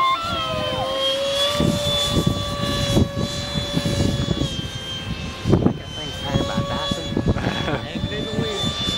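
Small electric radio-controlled model airplane, a Hobby Lobby RC F-18, flies overhead with a steady high-pitched motor whine that shifts in pitch as it passes, while people talk nearby and wind gusts.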